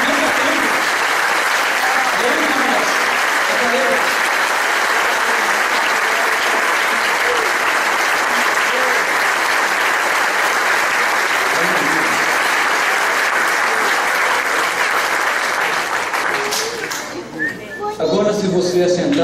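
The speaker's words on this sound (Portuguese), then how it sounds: "Ele aplaude, aplaude de novo." A church congregation applauds loudly and continuously at an evening worship celebration, dense sustained clapping that fills the room before tapering off near the end, with voices mixed in.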